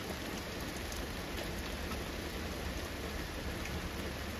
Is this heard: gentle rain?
yes